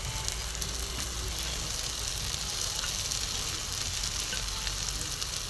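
Paneer sizzles and fries in a hot masala in a pan, a loud, steady crackling hiss that continues unbroken with no voices over it.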